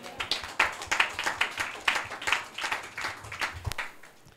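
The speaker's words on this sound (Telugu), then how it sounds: "చప్పట్లు కొడదాం" Steady rhythmic clapping repeats at an even beat of roughly two to three claps per second, close and moderately loud, with no one speaking over it, led by a preacher praising God.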